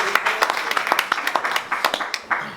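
Audience at a Burgundy wine auction presentation at a château breaks into brisk applause, a dense run of close hand claps lasting a few seconds.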